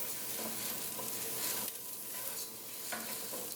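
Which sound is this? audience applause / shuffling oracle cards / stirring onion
stirring onion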